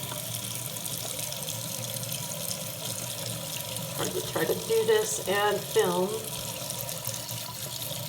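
Tap water runs steadily into a sink with brief splashy bursts as a makeup brush is rinsed, while a person talks over it.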